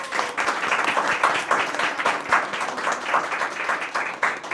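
An audience gives a big round of applause for the contestants at a live comedy game show taping, a dense, sustained wash of clapping that holds steady throughout without letting up.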